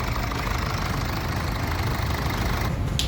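Idling diesel engine of a white 2017 Mercedes-Benz E220 d, heard under the open hood: a steady, even, close-up rumble and clatter that holds level throughout, with no talk over it.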